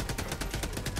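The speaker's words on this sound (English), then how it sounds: "Machine gun" Machine gun fire in the Helldivers 2 video game, a fast, steady run of rapid shots at an even rhythm, moderately loud and continuous without pause.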